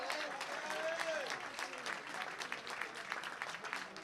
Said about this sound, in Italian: Anche per Alessandro Osso Armellino gli applausi del Della Ricca